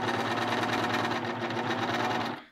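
A sewing machine stitches a garment sleeve set under the presser foot, running in one steady, loud, close whir for over two seconds before it stops abruptly.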